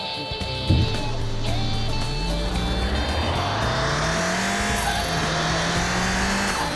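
A Nissan Silvia in Car Mechanic Simulator 2021, its final gear ratio raised for acceleration, revs up hard with engine pitch climbing through successive gear shifts, a short tire squeal at launch and a steady, loud drone.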